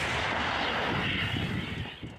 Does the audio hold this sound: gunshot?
yes